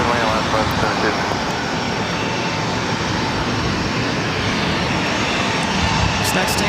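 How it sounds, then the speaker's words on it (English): Southwest Airlines Boeing 737-800 jet arriving from Las Vegas and landing at LAX, a steady broad roar of engine and rushing air that holds loud and constant throughout, without any talk. "This is Southwest Airlines 3095 coming in from Las Vegas on a"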